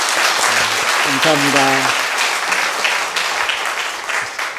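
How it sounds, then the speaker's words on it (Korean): A church congregation at a Wednesday service applauds to encourage its young adults, a loud dense clapping that runs throughout, while a voice speaks briefly over it near the start. "우리 청년들을 위해서 한번 격려의 박수 보내주시면 고맙겠습니다"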